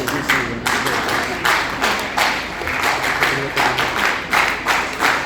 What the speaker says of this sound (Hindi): बच्चों की तालियों की गड़गड़ाहट से ही लग रहा है कि मैडम से कितना प्यार है।